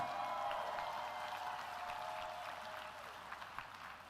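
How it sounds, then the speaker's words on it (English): Arena crowd applauding both fighters after a three-round amateur-style bout ends, a steady broad wash of clapping that fades slowly toward the end. "a round of applause for both of these athletes"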